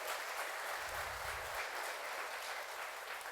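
A church congregation applauds during a sermon, a steady wash of many hands clapping that fills the space, heard from a distance and fairly faint.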